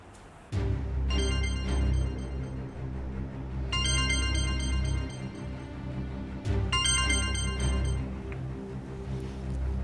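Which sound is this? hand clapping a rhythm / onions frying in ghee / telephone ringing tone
telephone ringing tone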